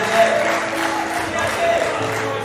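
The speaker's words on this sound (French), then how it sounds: "Est-ce qu'on peut applaudir Joseph, s'il vous plaît?" Audience applauding Joseph, a young contestant on a talent show elimination night, with steady, fairly loud clapping from a crowd that holds through the moment.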